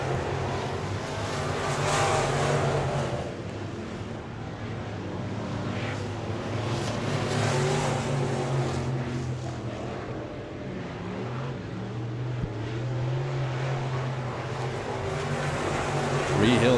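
Dirt track race cars roaring around the oval at Victory Lane Speedway in Manitoba, Canada, engines droning and surging as they pass, with an announcer talking over the sustained engine noise.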